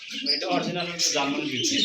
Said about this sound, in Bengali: এখানে আরও একজন কবুতর আছে